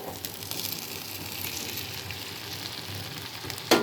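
Tomato pieces sizzle and crackle in a hot pan, a steady close frying hiss that holds throughout, with a brief clatter at the end.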